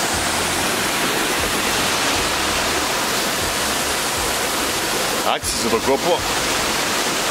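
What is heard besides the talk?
waterfall on rocks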